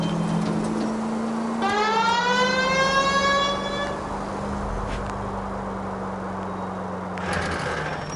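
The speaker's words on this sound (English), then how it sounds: "I think we need a siren." A police car siren in the video game L.A. Noire winds up in a rising wail over a steady engine drone, then cuts off, with a short chirp near the end.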